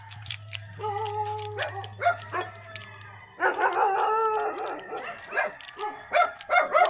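A dog barks and howls nearby in a series of loud, separate outbursts, some drawn into yelping howls, with a low hum fading out partway through.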